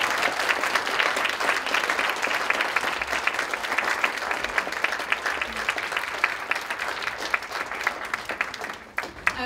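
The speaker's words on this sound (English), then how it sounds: "so we can have a round of applause for them" An audience at a climate justice panel gives the panelists sustained, steady applause from many people, lasting several seconds before tapering off.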